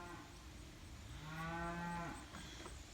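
A single cow moos in a large pasture, one drawn-out low call rising and holding for about a second, fairly faint and distant against quiet outdoor background.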